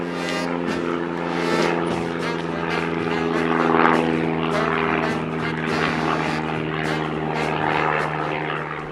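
A propeller airplane drones loudly overhead as it swoops down, a steady engine hum with a pulsing rise in the middle, continuous and close throughout.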